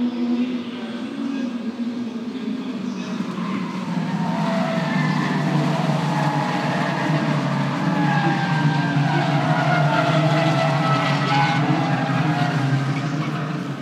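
A pack of Caterham race cars charges past on the Silverstone F1 circuit, engines roaring and tires squealing in a sustained, swelling rush of several cars that stays loud and close for the whole stretch, with no clear speech.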